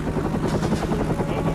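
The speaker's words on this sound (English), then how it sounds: "The helicopter raced 20 yards off the ground to avoid enemy radar." A military helicopter flies about twenty yards above flat desert terrain, its rotor giving a loud, steady, dense thrum with a rhythmic chop and broad roar, heard from close by inside or beside the aircraft.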